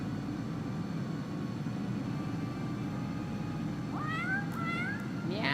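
A cat meows several times near the end, rising short calls in a Final Fantasy XIV scene, over a steady low ambient hum.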